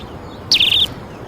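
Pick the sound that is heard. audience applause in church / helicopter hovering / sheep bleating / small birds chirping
small birds chirping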